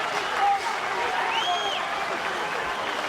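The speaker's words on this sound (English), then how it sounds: "And the crowd really getting into this Merseyside derby." A boxing crowd at a Merseyside derby bout for the British 168lb title roars and applauds in a steady, distant wash, under a commentator's voice.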